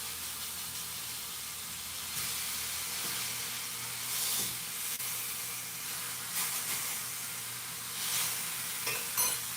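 A BBQ chicken breast sears in a hot pan, giving a steady close hissing sizzle with brief louder flares and a few faint clinks, no one speaking.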